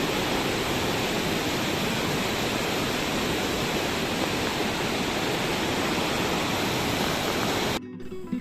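Water flows all around a temple at Vanasthali, a loud, steady, dense rush close by that continues unbroken before cutting off abruptly just before the end.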